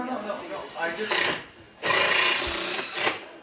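A hammer driver drives screws into wooden stage platforms, giving bursts of rough, rasping, buzzing rattles separated by short pauses, loud and close, with faint background voices.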